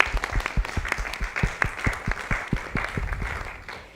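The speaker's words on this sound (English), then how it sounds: "let's give a big round of applause for Prof." A keynote audience at a summer course claps in a steady round of applause for a professor, with distinct individual claps close by over a denser crowd wash that tapers off toward the end.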